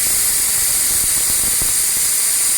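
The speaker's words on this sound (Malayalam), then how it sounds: "ഈ കുക്കർ അടച്ചിട്ട് നമുക്ക് വിസിൽ വരുന്നത് വരെ ഒന്ന് വെയിറ്റ് ചെയ്യാം" A closed pressure cooker vents steam in a loud, steady, high hiss that fills the moment, with a few faint low knocks underneath and no voices.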